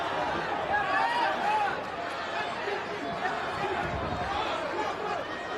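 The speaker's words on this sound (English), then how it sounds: "Mixed emotions from this capacity crowd." A capacity crowd at a boxing match between Garcia and Duarte keeps up a steady, dense murmur and chatter, a broad arena hubbub that rises a little early on and then holds level throughout.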